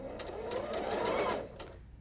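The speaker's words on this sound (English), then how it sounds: "just make sure as you're sewing that both fabrics are right up against your foot" A sewing machine stitches quilt fabric in a short fast run of motor whir and rapid needle clatter, close and moderately quiet, then stops.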